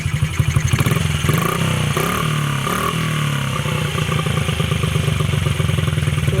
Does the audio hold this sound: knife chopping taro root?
no